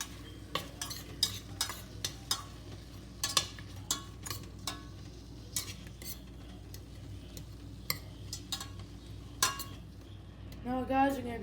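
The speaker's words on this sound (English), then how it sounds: "Now we're gonna start to mix." Batter for a New York cheesecake is mixed in a bowl, with a utensil tapping and clinking against the side in a steady, fairly quick rhythm over a low background hum, ending in a brief scraping burst.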